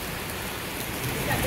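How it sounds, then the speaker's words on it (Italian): Rain falls outdoors in a dense, steady hiss, close and constant with no breaks, and no other sound stands out. "Sta piovendo, cosa ne pensa?"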